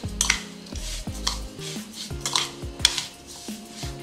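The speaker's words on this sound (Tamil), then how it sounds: "ஃப்ரெஷ்ஷான கொத்தமல்லி கொஞ்சம் இருக்குது, அதையும் சேர்த்துப்போம். நல்லா மிக்ஸ் பண்ணி விட்டுக்கோங்க." Semolina batter for samba rava idli mixed with grated carrot and fresh coriander in a metal vessel, a series of close, ringing clinks and knocks of a spoon against the bowl in an uneven rhythm, without talk.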